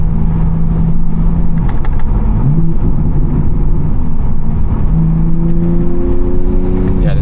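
A tuned BMW G80 M3 with an M2CS flash pulls hard under acceleration from inside the cabin, the engine note climbing through gears in rising sweeps, loud and continuous with a short dip at a shift.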